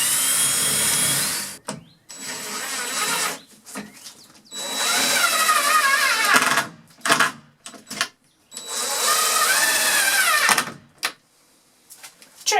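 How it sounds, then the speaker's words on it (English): A power drill whirs close by in about five bursts, its pitch rising and settling as it drives a long hinge screw through a door frame into the wood stud, with short pauses between. "I like to pre-drill where our hinge screw, the long hinge screw goes in"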